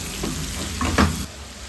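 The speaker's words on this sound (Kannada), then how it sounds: "ಹೀಗೇ ಇದನ್ನು ಡ್ರೈ ಫ್ರೈ ಮಾಡ್ಕೊಳ್ಬೇಕು" Pork dry frying in a pan gives a short close sizzle with a couple of stirring scrapes, brief and alone without voices.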